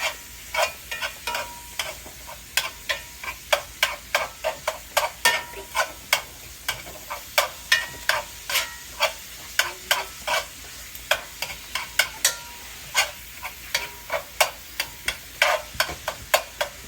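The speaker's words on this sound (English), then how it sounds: "you kind of start breaking it up to get the meat cooked and start mixing all the spices" Ground taco meat with spices sizzling in a pan, a steady frying hiss broken by regular scraping clicks of a utensil stirring and breaking up the meat, close and alone.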